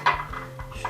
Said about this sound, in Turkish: Şuraya koyuyorum bardağımı.